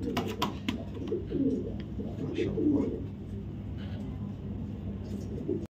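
Racing pigeons cooing in a loft: several low throaty coo phrases rise and fall close by, with sharp flapping or clicking bursts at the start and a low background rumble.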